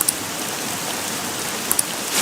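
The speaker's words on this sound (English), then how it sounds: "This rain ain't too bad." Steady rain hiss from the game Persona 5 Royal, a continuous broadband wash with a few faint brief clicks near the start and end, no voices.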